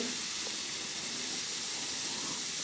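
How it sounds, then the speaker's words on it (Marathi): Sprouted moth beans (matki) hit a hot pan, giving a steady, even hiss of sizzling that holds at a constant level throughout with no voices. "आता आपण मटकी टाकून घेऊ"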